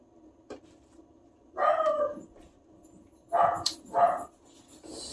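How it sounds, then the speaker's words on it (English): Dogs bark in short separate bursts at moderate distance: a faint yip, then a louder bark, then two more barks close together near the end, with quiet between them. "Sorry for the dogs."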